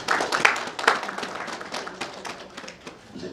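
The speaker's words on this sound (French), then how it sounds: "Vous êtes très applaudi par vos collaborateurs." Scattered clapping from a small crowd, a dense patter of hand claps that stays fairly even before tapering slightly.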